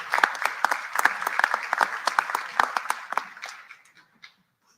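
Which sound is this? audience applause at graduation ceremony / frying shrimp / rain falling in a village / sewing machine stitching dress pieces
audience applause at graduation ceremony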